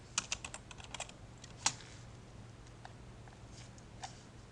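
Keys clack on a computer keyboard as a Thai name and class details are typed in while setting up a Google Sites page, a quick burst of close strokes at the start and scattered taps after, over a low steady hum.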